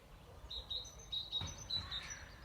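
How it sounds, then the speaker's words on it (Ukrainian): Small birds chirping in short, high repeated notes against a quiet outdoor garden background in early May, fairly faint and distant. "Послухайте, як співають пташки."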